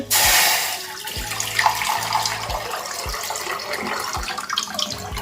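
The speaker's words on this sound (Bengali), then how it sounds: "জল গরমটা বসিয়ে দিই জল গরমটা হতে থাকুক" Water runs from a tap into a vessel to be heated for washing, a loud rushing splash at first that settles into a steady pour with a few knocks of the container.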